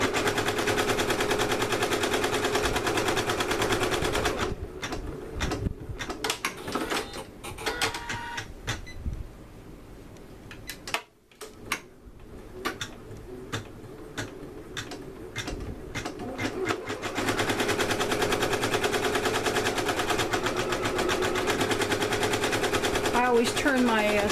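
An embroidery machine stitches an outline on a onesie at a reduced speed of 600 to 700 stitches per minute, a rapid, steady mechanical rattle that runs loud, thins out in the middle and then resumes at full pace.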